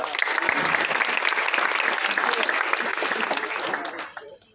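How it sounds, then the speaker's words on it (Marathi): An audience at a Marathi comedy play breaks into loud, dense applause that holds steady for about four seconds and then quickly dies away. "तोपर्यंत आशेवादी वाल्यांसाठी जरा जोरदार टाळ्या होतील"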